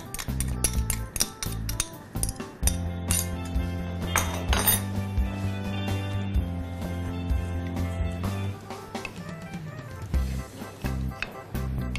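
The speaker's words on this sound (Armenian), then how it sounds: "Խառնում ենք։" A spoon clinks and scrapes against a pot while mixing, producing a run of sharp metallic taps and rings in irregular rhythm, close and clear with no talking.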